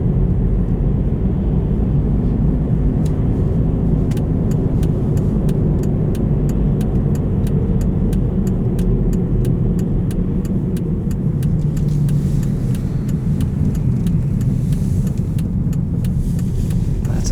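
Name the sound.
studded tire road hum inside a 2016 Volvo S60 Cross Country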